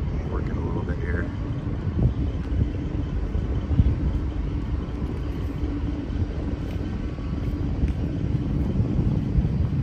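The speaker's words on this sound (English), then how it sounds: "Planes coming in, planes going out." Aircraft rumble steadily near San Diego as planes come in and go out, a broad low drone with wind buffeting the microphone throughout.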